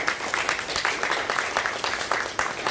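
A church audience at a talk in Menlo Park claps after the talk, a steady patter of many hands at moderate volume with no voices over it.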